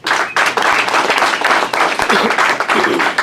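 A crowd gathered to welcome home a South African IBF world champion boxer claps vigorously, a loud, dense burst of applause close by that keeps going without pause.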